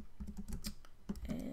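Quick, light clicks of fingers typing on a computer keyboard, a close, quiet burst of keystrokes with a brief pause midway before resuming.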